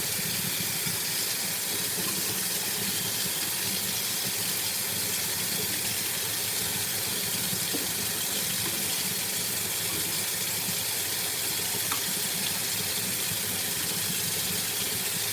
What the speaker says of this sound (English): I had to clean my water cup because it was looking kind of crazy